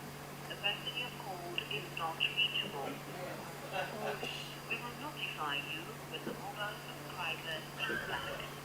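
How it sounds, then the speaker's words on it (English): A phone call rings out through a speaker, with a repeating electronic tone under people talking nearby. "so it's ringing so that we hear the response"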